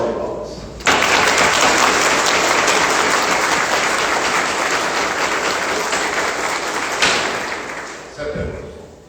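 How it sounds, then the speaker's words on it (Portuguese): A roomful of people gives a loud, vigorous round of applause at a Masonic ceremony. The clapping starts abruptly and holds dense and even for about seven seconds, then cuts off with a brief trailing patter. "com uma vibrante salva de palmas"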